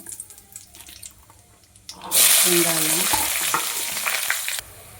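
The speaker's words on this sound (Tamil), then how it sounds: "தேவையான அளவு எண்ணெய் சேர்த்துக்கலாம். அதோட கடுகு சேர்த்துக்கலாம். கடுகு பொரியட்டும்." Mustard seeds and curry leaves hitting hot oil: a quiet lead-in, then a sudden loud burst of crackling and spluttering that holds for a couple of seconds before easing off, close up.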